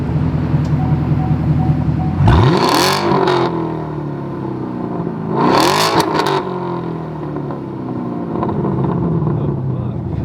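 A straight-piped Chevrolet Camaro SS idles loud and close, then revs hard twice in two sweeping roars and falls back to a rumbling, burbling idle. Voices can be heard over the engine.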